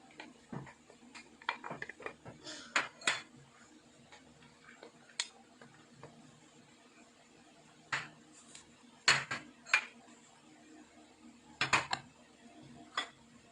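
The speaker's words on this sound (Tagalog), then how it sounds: "To prepare these vegetable dumplings, first we're going to mix all the ingredients." Vegetable dumpling ingredients being mixed in a bowl: faint, scattered clinks and taps of a utensil against the bowl, with irregular brief knocks over a quiet background.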